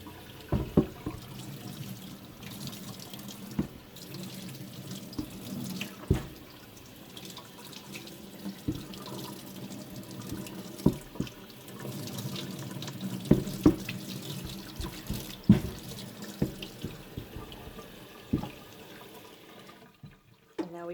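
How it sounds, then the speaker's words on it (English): Hot water runs steadily from a kitchen tap while a wooden cutting board is rinsed beneath it, a continuous splashing hiss broken by irregular knocks and thumps as the board is moved, with no one speaking. "you're going to take your cutting board and just rinse it with hot water"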